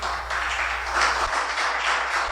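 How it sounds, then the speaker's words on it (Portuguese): A church congregation claps together in praise, a steady mid-level patter of many hands sustained for a couple of seconds without pause. "Você pode aplaudir o Senhor mais uma vez?"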